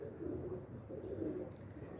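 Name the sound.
teddy pigeons cooing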